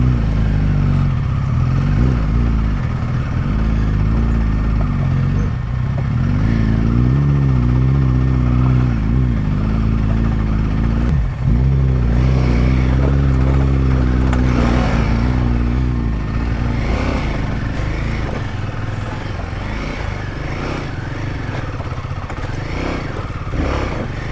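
A motorcycle struggling over muddy, slippery rocks on a mountain road in Nepal, its engine loud and close, surging and labouring unevenly with clattering throughout.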